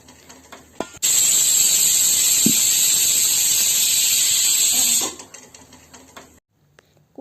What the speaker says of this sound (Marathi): कुकर ओपन केला मी